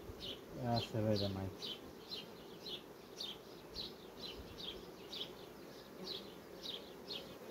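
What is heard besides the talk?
honeybees buzzing around hive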